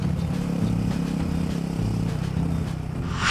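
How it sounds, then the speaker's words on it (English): A Royal Enfield Himalayan 450 motorcycle on the road carries a loud, steady engine drone with constant wind rush and no speech. "I just want to ride my motorcycle."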